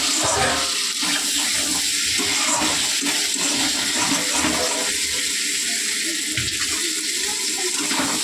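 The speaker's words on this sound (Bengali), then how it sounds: "এবার এটাকে একটু জল দিয়ে ঢাকা দিয়ে দেবো যাতে আলুটা সেদ্ধ হয়ে যায়।" Water poured steadily from above into a cooking pot of potatoes, a continuous loud splashing and rushing stream that stays even throughout, close and without speech.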